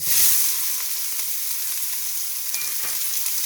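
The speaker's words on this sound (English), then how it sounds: "We're adding a small diced onion" Small diced onion sizzling in hot avocado oil in a pan, a steady bright frying hiss with faint crackles, alone without talk.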